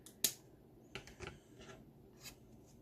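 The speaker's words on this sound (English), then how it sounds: "I'm going to take my scissors and I'm just going to cut off that excess" Scissors trimming excess paper during scrapbooking, a few quiet, crisp snips and rustles: one sharp cut near the start, a couple more shortly after, and a faint one near the end, close up and without talking.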